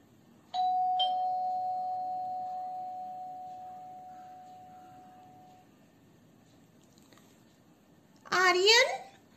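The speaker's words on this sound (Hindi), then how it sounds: "एक घंटी बजी।" A doorbell rings once with a long sustained electronic chime tone that slowly fades, followed by a brief burst of another sound near the end, in a quiet indoor home setting.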